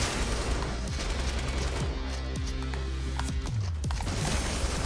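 An LMG in Fortnite firing nonstop, a dense loud stream of rapid shots punctuated by crunching impacts as walls break apart, with no talk over it.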